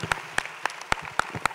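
At a textile and embroidery fashion show, sparse clapping greets a cancer patients' aid group marking 50 years: about six crisp, evenly spaced claps ring out close and distinct over a quiet room.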